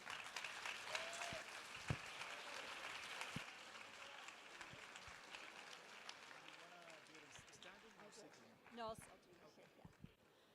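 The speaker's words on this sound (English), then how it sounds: "Let's give her a round of applause." Audience applause fills a keynote hall, broad steady clapping that holds for several seconds and slowly thins out, with a few louder claps and some voices mixed in near the end.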